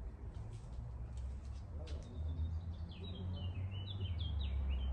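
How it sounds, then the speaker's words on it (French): Small birds sing and chirp in a home garden, their thin high calls repeating through the clip over a steady low background rumble of distant traffic. "Est-ce que ce n'est pas tellement agréable d'être dans son jardin, avec les petits oiseaux qui chantent?"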